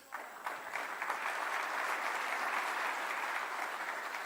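A dinner audience at a Lincoln Reagan Day event in Tyler, Texas applauds the governor with sustained, dense clapping that rises quickly and stays steady throughout, with no voices over it.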